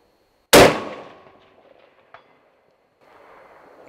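A single loud rifle shot from a scoped hunting rifle fires sharply and decays over about a second, followed by a faint distant ring of impact and quiet outdoor background.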